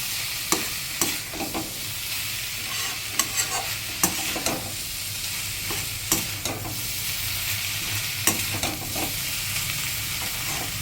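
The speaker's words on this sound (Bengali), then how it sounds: "হাই ফ্লেমে ভালো করে মশলাটাকে ভাজবো। আলু আর চিচিঙ্গের সাথে ভালো করে মিশিয়ে নেব।" Ground spices and chilli powder frying with potato and snake gourd in a pan over high flame, a steady sizzle punctuated by repeated sharp clacks of a spatula stirring and scraping, close and loud with no voices.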